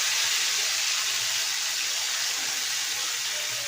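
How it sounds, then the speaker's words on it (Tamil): Cauliflower pieces fry in hot oil for chilli cauliflower, giving a steady, bright sizzling hiss that stays loud and even throughout with no voices. "இப்போ எண்ணெய் காஞ்சிருச்சு. 10 நிமிஷம் ஆயிடுச்சு. இப்போ காலிஃப்ளவரை பொரிச்சிடுவோம்."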